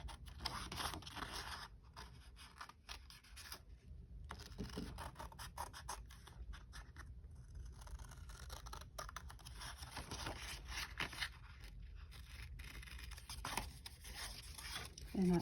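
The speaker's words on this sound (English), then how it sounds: "all I'm going to do is cut out this little body part here" Small scissors snip out a stamped paper body-part shape at a craft table, a run of soft, close crisp cuts and light paper rustles over a low background hum, with no talking.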